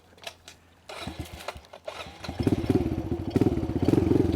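A Kawasaki KLX 110R dirt bike, the four-speed version without a clutch, is started and ridden, its small single-cylinder engine popping irregularly at first, then revving up into a loud, rapid, rattling buzz nearby.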